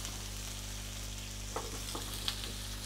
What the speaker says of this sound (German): Lassen wir leicht weiter rösten.